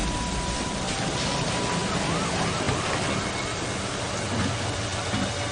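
Steady hiss of heavy rain falling, constant and enveloping, with faint wind and a murmur of voices underneath.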